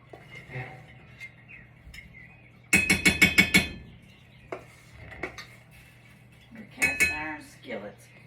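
Metal pans and skillets clank in a kitchen, including a quick burst of several ringing metallic knocks near the middle and scattered clinks elsewhere, with people talking in between.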